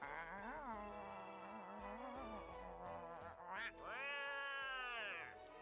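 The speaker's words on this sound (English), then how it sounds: "He's having a conversation with the cat." A cat in a video game meows in a long, wavering, voice-like run of calls, then gives a second rising, drawn-out meow, close and clear with no talk.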